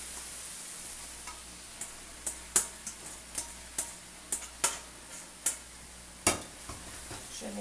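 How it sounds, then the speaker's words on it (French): A tofu and vegetable stir-fry with marinade gets stirred in a hot pan, with a spatula scraping out about a dozen sharp, fairly regular strokes over a soft, continuous sizzle and no talking. "Je mélange le tout."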